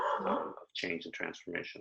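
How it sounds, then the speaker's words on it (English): A pet dog barks several times in quick, sharp bursts close by, following a stretch of a person talking in an interview. "That's my dog."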